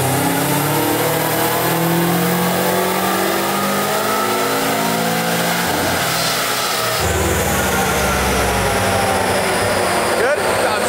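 Subaru Forester on a dyno with boost being raised, the engine revving loud and sustained with rising and shifting pitch, plus a brief sharp change near the end.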